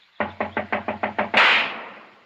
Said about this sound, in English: Knock again, if you don't mind.